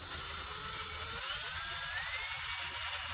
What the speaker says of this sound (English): We're going to drill this out.